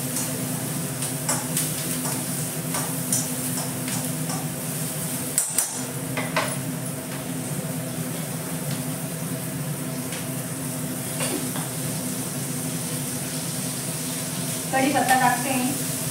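Green chillies frying in a small amount of oil for a homemade Indian vegetable dish give a steady, close sizzle that runs throughout, with a few faint pan clicks and a brief clatter near the end.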